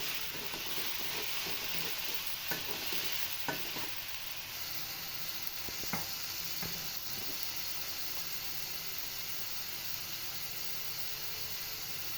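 Sliced green chillies being stirred in a hot pan for coriander leaf chutney, a soft continuous sizzle with a few light utensil taps early on, then a quieter steady hiss.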